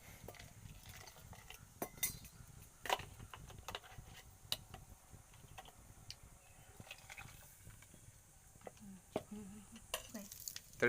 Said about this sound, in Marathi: ते आता वाटण सगळं आपण टाकून घेऊया.